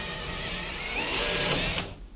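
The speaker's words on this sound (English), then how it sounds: "We're drilling the same size holes as we did for the corners of the wall mount." A power drill bores a hole into a wall while a short-throw projector mount goes in, a close whirring whine that rises in pitch, then cuts off abruptly near the end.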